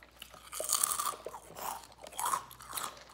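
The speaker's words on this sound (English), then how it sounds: "Hear the crunching." Someone eats a Subway meal with chips, giving repeated close, crisp crunches and chewing in several bursts of bites, loud and intimate with no talking.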